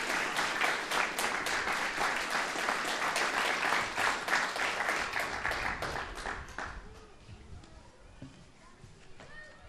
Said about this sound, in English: I'd ask for a nice round of applause for Joe and Marina